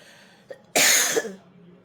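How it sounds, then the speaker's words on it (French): A single harsh, close cough bursts out after a faint breath, then fades into quiet room noise. "Toujours avec la toux."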